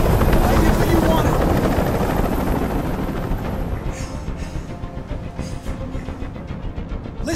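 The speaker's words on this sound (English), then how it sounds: "Tell that helicopter to get out of here." A helicopter hovering over a hostage standoff in the video game Detroit: Become Human, a loud, continuous rotor chop close overhead that gradually settles into a throbbing pulse, with voices talking over it.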